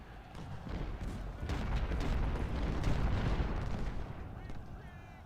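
Rolling artillery fire from a Civil War battle game, Ultimate General: Civil War, rumbles as a dense, continuous barrage of overlapping booms and crackling gunfire, with a voice talking over the din.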